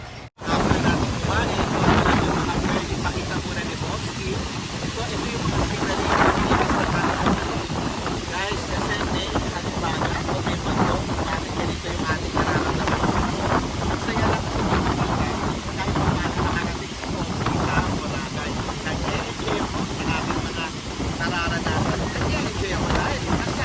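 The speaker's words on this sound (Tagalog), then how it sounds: "medyo hirap ako sa tindi ng lakas ng hangin" Strong wind on Boracay Island, Philippines, roars steadily into the microphone, buffeting loudly throughout with a rushing, gusty texture that never lets up.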